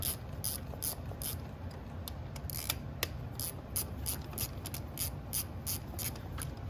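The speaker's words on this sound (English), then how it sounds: "On the back, I have to use a ratchet instead of the nut driver" A hand ratchet loosens nuts on the rear of a race car, giving a fast series of sharp metallic clicks over steady background noise, close and moderately loud.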